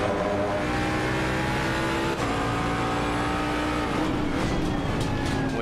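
Ford Mustang GT3 race car in Assetto Corsa Competizione at Watkins Glen, engine droning steadily and loud with gear-shift dips and rising revs, a brief tyre squeal near the end, no talk.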